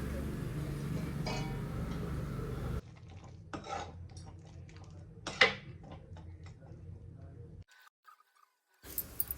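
A kurma with kasuri methi being stirred in a pan, with light clinks and scrapes of a spoon against metal, quiet and intermittent, including one sharper knock, before a short silence and a return of faint clatter.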